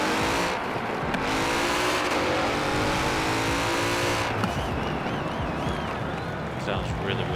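A drag-tuned Mercedes-Benz X-Class truck on drag tires in Forza Horizon 4 roars close and loud, revving hard through gear changes with tire squeal before the engine note drops away near the end.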